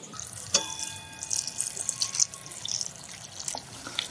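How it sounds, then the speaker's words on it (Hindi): Water is poured over dried shrimp to rinse off sand in a village kitchen, a soft close splashing and trickling with a few sharp drips, faint and uneven. "तो हम डालते हैं पानी।"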